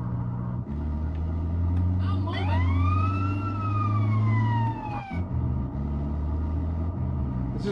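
In the video game GTA San Andreas, an ambulance siren wails in a rising and falling sweep over a steady engine drone, loud and close, fading as the vehicle rumbles on.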